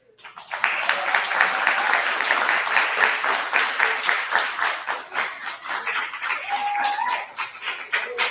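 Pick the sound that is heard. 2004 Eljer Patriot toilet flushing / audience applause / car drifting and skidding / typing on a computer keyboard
audience applause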